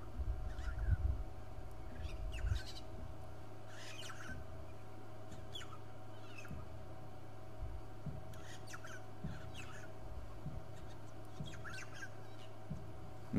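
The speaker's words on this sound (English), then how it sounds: "Very common bird around here." Common, noisy birds displaying near a safari camera give repeated squawking calls in short bursts, moderately distant and fairly faint over a low, steady background hum.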